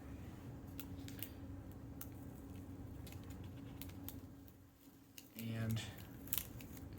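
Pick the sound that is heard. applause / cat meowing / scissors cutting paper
scissors cutting paper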